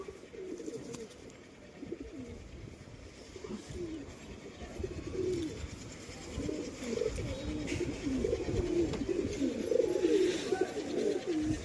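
Pigeons coo repeatedly and fairly close in a continuous, low, throaty murmur that grows slightly louder toward the end, kept at home with wings tied before release.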